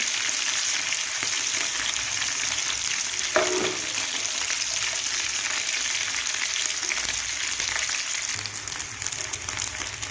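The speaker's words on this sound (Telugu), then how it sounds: "ఎండ్రాయిలు క్రిస్పీగా ఎగాలండి. బాగా ఎగిపోవాలి." Dried prawns fry in hot oil, giving a continuous loud sizzle with a brief stirring clink partway through, with no talk over it.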